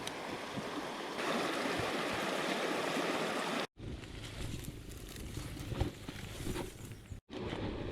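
Steady broadband rush of flowing stream water fills the clip, with brief cuts in the middle and near the end.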